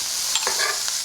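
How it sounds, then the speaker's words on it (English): Chopped bell pepper, sweet corn and jalapenos hiss loudly in a hot pan as they are tossed in a quick stir fry, with a brief scrape of the spatula partway through. "And now we are going to quickly stir fry them"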